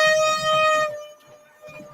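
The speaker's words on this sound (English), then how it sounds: "You got air horns." A loud air horn blares with a sustained harmonic tone, fades out after about a second, then sounds faintly again near the end.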